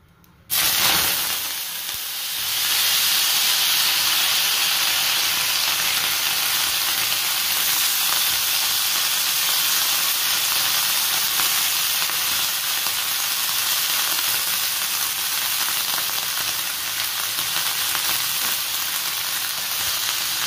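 Chopped ginger, garlic, onion and green chilli drop into hot oil for a prawn dish and burst into a loud, dense sizzle that hisses on steadily at close range with no voices.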